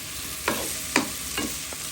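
Pieces of sweet pumpkin sizzle quietly in a frying pan while a spoon stirs them in three or four distinct scraping strokes.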